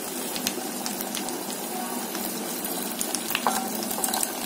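Onions and broth sizzle and bubble in a hot pan while a utensil stirs through them, with small scraping clicks scattered over the steady simmer.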